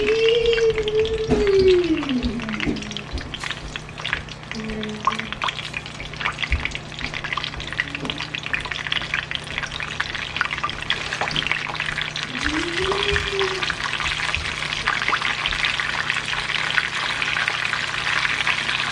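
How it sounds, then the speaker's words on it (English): Chicken browning in a frying pan sizzles in a dense, continuous hiss that stays close and fairly loud throughout, with occasional spatters and a few brief vocal sounds. "I'm just going to brown this chicken nicely on both sides"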